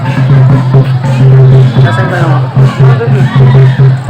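Crowd hubbub at a Baba Tilka Manjhi jayanti celebration, a loud, dense babble of many voices close by, with a steady low hum underneath.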